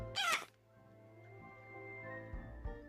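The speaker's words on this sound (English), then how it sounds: "The Dark Griffin gives you a quick chirp before watching and waiting for you to do something" A short, sharp chirping cry from the Dark Griffin, a creature in a fantasy video game, bursts out once at the start and then gives way to a low sustained musical drone.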